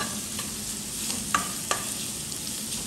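Garlic sizzles in a hot pan with a soft, steady hiss, broken by a couple of light utensil clinks.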